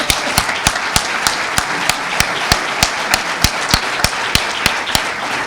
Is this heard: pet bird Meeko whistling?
no